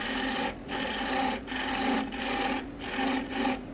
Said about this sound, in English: So we will use this scraping tool to do so. I'll get a little bit of a taper at the front.